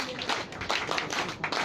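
A group of Indian Girl Guides and Rangers claps together at a centenary gathering, a short burst of rapid, slightly uneven hand claps at close range.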